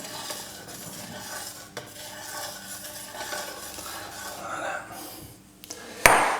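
White wine vinegar and water swirl in a pan for poaching eggs, with a light sloshing stir, faint sizzle and clinks of a utensil against the pan, ending in a couple of sharper knocks.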